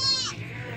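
A goat of a desi Pakistani breed gives a single short, bleat close by on a farm, the call rising then fading quickly against a faint background.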